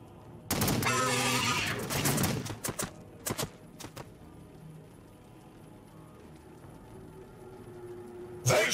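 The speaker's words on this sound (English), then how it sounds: "Open fire! Heavy fire support!" Gunfire in Warhammer 40,000: Battlesector, a loud burst of rapid shots followed by a few sharp separate cracks, then quieter battle ambience with another impact at the end.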